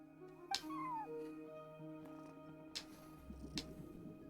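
A cat in the Genshin Impact video game gives a short, clear meow amid quiet in-game ambience and faint musical tones, followed by soft clicks and small game effects.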